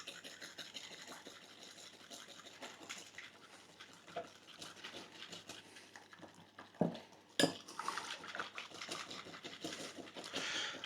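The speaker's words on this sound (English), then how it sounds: "Just going to do a little bit and whisk it like mad" Eggs being whisked vigorously in a bowl as warm milk is poured in for custard tart filling, a steady rapid scraping and clinking of the whisk with a couple of sharper knocks against the bowl, close and fairly quiet.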